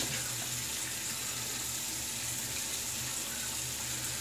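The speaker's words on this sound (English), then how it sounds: "So let's rinse the face and get into the post shave." Water runs from a bathroom tap during a face rinse after shaving, a steady hissing stream that holds level throughout without pause or voices.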